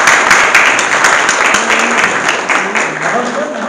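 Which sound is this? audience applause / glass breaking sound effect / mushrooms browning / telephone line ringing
audience applause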